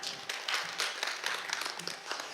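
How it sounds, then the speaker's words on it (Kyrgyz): An audience at a Kyrgyz comedy battle final applauds with a dense, continuous clapping that carries steadily throughout, heard from a moderate distance. "Дүркүрөгөн кол чабалар."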